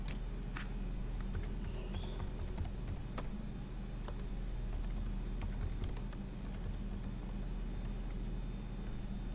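Steady typing on a computer keyboard while entering a rubric name into a learning platform, with continuous clicking keystrokes close by under a constant background hum.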